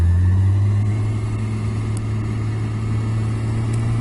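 Steady motorcycle engine hum at slow riding speed on the way to a garage, a loud, close, even drone with a low constant tone and no revving peaks.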